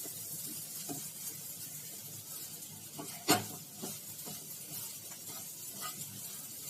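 A spoon stirring homemade garam masala into a potato and pea peel sabzi, with quiet, uneven scraping and rubbing in the pan and one sharper knock midway.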